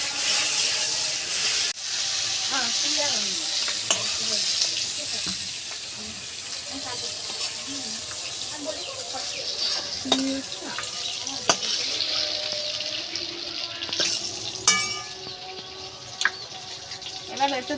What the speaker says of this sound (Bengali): এবার দেবো চিংড়ি মাছটা ভাজবো